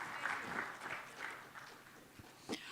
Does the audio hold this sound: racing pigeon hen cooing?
no